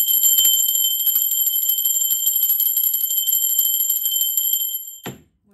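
A bell rings in rapid, sustained metallic trills like an alarm-clock bell, bright and loud for about five seconds before stopping abruptly, followed by a brief thud.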